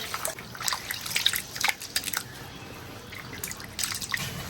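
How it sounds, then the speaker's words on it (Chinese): Water runs and drips into a bowl of thinly sliced chicken hearts set to soak, a light, uneven trickle with scattered drops, close by and fairly quiet, with no talking. "加点水，把血水给它泡出来"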